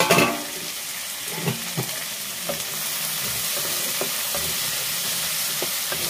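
Chicken fries in a pan with a continuous bright sizzle, broken by several distinct scraping strokes as it is stirred, close and clear with no talking.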